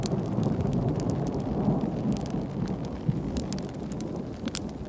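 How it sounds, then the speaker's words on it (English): A thunderstorm in the middle of a forest: rolling thunder rumbles continuously beneath steady rain, with a few sharper cracks and swells, loud and close throughout with no voices. "So we got the thunder and lightning."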